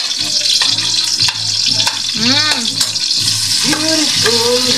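Onions frying in cooking oil for a saluyot and mushroom dish, a steady hiss of sizzling with a voice talking over it in places.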